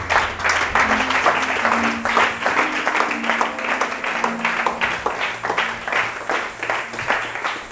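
Church congregation applauding steadily throughout, a dense continuous wash of clapping with a faint sustained tone underneath.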